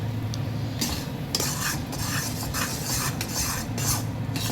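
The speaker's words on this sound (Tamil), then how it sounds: "ஒரு 10 மினிட்ஸ் நல்லா கலக்கணும், கட்டி ஆகக்கூடாது" A thickening mixture for a mor kali dinner is stirred steadily in a pan for several minutes, giving continuous close scraping with soft sizzling beneath it and occasional sharper utensil scrapes, with no talking.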